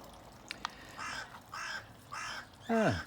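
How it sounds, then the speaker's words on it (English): A visiting crow caws outdoors, three hoarse calls at a slow, even pace from a short distance, followed by a louder, nearer downward-sliding caw, with a couple of faint clicks before. "We've got a visiting crow."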